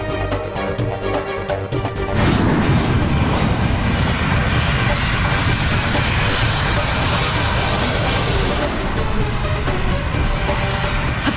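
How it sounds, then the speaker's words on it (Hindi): Loud, roaring airplane engine as the aircraft descends in a dramatic scene, a broadband roar that swells after a quieter start and then holds steady and close, with no talking. "अभी तो पहिए भी नहीं खुले, फिर ये विमान नीचे क्यों जा रहा है?"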